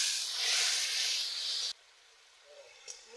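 Water hits a pan of frying tomato with turmeric, chilli powder and salt in a village kitchen, giving a loud steamy hiss that cuts off abruptly, then a quieter simmer.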